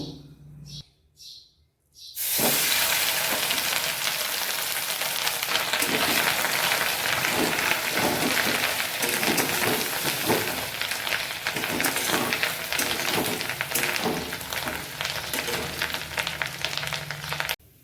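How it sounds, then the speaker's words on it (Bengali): Katla fish roe dropped into a hot pan, with a few soft knocks and then a sudden loud, dense sizzle that crackles steadily close up for the rest of the time. "এখন আমি মাছের ডিমটা ভেজে নেব"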